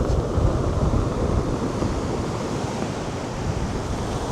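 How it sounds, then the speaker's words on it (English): Atlantic Ocean waves roll in on a windy Canary Islands shore near old factory ruins, a continuous loud rushing roar of surf mixed with heavy wind buffeting the microphone. "So this is the Atlantic Ocean coming in"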